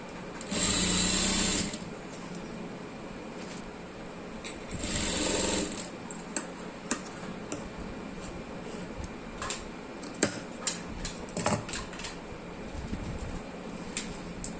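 Sewing machine fitted with a one-side foot stitching piping onto a garment, running in two loud bursts with a brief pause between, followed by quieter clicks and handling noises.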